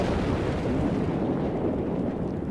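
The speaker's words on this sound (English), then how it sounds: "The amount of energy generated by a nuclear explosion is enormous." A nuclear explosion in a documentary film produces a loud, continuous deep roar and rumble that holds steady and slowly thins out in the higher range toward the end.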